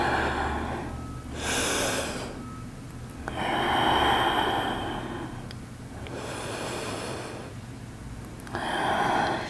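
Slow, deep breaths during yoga practice, with long airy inhales and exhales rising and falling in turn, close and fairly loud, with no talking.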